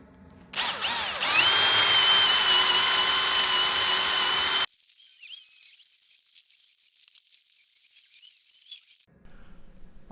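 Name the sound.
drilling holes in wood for garden bench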